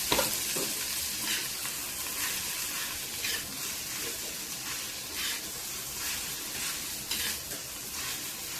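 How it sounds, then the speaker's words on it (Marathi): Oil going into a hot pan for bhindi bhaji (okra stir-fry), a continuous bright sizzle and hiss with occasional louder spitting bursts, close and steady, no voices. "बघा तेल टाकून घेते."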